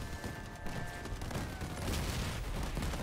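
Missile and weapon fire from the vehicle combat game Crossout, a dense, continuous barrage of overlapping blasts and shots that stays loud and close for about three seconds, with no talking.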